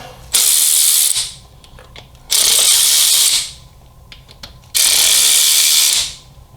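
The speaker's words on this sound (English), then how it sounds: "going around, pulling cam plate bolts." A power ratchet loosens cam plate bolts on a Harley-Davidson Milwaukee-Eight engine in three loud, close bursts of about a second each, separated by quieter gaps with faint clicks.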